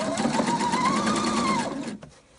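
A sewing machine runs a narrow stitch on baby bloomers in one close, steady buzzing run that stops abruptly near the end.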